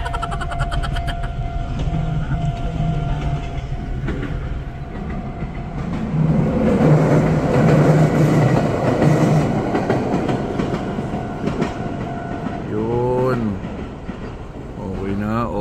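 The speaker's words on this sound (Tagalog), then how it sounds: "Tagal naman ang tren na yan" A train rolls past at a Japanese rail crossing, its rumble and rhythmic clickety-clack swelling loud in the middle and then fading, with people talking over it and a rider's voice near the end.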